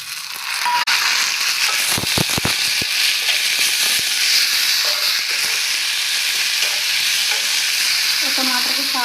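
Onions and tomato fry loudly in a pan, a constant close hissing sizzle with scraping stirs throughout and a few sharp clinks of the spoon early on.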